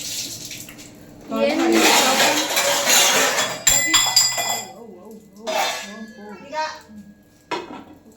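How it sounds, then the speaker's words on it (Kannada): Clattering metal kitchenware with a couple of sharp clanks as a pressure cooker lid is set and locked, close by, with people talking over it. "ಕುಕ್ಕರ್ ಮುಚ್ಚಳನ ಕ್ಲೋಸ್ ಮಾಡ್ತಿದ್ದೀವಿ"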